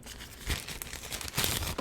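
A plastic bag crinkles and rustles in two short bursts while designer toys from Horn's Yard are unboxed, close and fairly loud with no voice over it.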